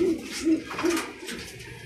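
Pigeons in a loft give three evenly spaced low coos, close and clear, over a soft background hiss with no talking.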